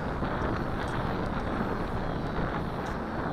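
Strong wind buffets the microphone outdoors during a drone flight test, producing a constant loud rumbling roar with no pauses and no speech over it.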